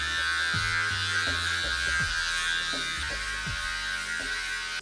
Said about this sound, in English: Trim down your leg hair to 4 millimeters of length.